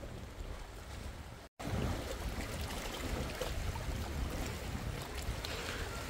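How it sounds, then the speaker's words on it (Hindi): Clean water washing steadily over stones at a rocky shoreline at Perfume Point in New Zealand, a constant loud broadband rush with wind, briefly cut out once, no voices. "यहाँ पे इतनी सुंदर आवाज़ आ रही है पानी की हवा चल रही है ठंडी ठंडी"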